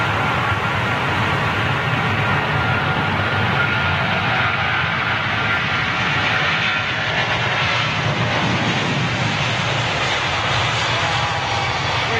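A large airliner idles and rolls while lining up on the runway at Heathrow, a steady broad engine roar holding for the whole stretch, loud and continuous with no talk over it.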